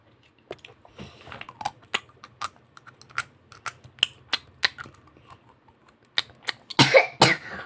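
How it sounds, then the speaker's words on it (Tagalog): One person coughs several times in short, sharp bursts amid clicky kitchen-play clatter while cooking toy food, including shrimp, with a louder cough cluster near the end. "Inuubo ako."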